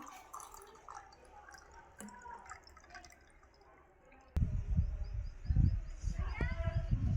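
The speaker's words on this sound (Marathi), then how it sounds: "आम्ही आमच्या बागेतल्या झाडांना हे खत टाकत आहोत." Homemade organic liquid fertilizer pours and splashes onto garden plants, starting with faint background sounds and quiet voices before turning into a loud, steady splashing flow over the last three seconds.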